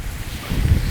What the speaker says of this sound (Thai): โอ้ลม